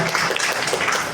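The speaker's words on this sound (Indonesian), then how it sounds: "Tepukan yang meriah untuk Cynthia" Indoor audience applause at a literary reading event, a brief burst of steady, moderately loud clapping from many hands lasting about a second.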